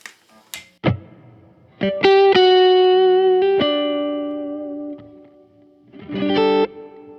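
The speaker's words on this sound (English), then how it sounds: "So you can take that hall reverb from pretty normal reverb levels to pretty ambient" A Fender Mustang GT 100 amp plays guitar notes and a strummed chord that ring out with a long, spacious hall reverb tail, a few muted plucks, then another chord swelling at the end.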